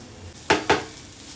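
Metal spatula clacks twice against a pan while carrot stir-fry is turned over high heat, two sharp close scrapes about a fifth of a second apart over a faint steady background.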